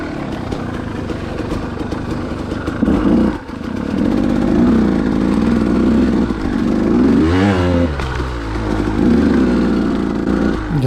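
A dirt bike engine on a trail ride roars loud and close, its revs rising and falling with a sharp throttle burst and a sudden dip near the start, then a steady high drone with a wavering surge later on.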